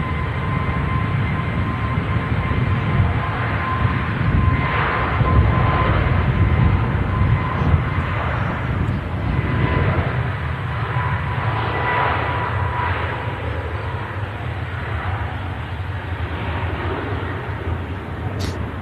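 A passenger jet bound for Gran Canaria at Manchester Airport makes a broad, steady engine roar that holds for the whole stretch, loud and fairly near, with people speaking in the background.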